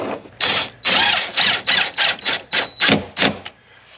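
A power drill bores a pilot hole for a screw while a budget door closer is fitted, the motor whirring in short, repeated bursts with brief pauses between, close and loud.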